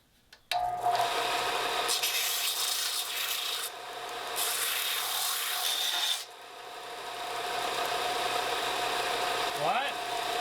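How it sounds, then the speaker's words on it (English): A power sander grinding down a tack weld on a 1977 Ford F250 makes a loud, continuous rasping whir for about ten seconds. Its pitch and intensity shift as pressure changes, and it ends in a brief winding-down whine. "I'm gonna take it over on the sander and"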